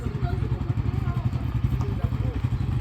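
A motorcycle in India, ridden by a beginner practising the clutch, gives a steady low engine rumble with slight revving surges throughout, while voices talk over it.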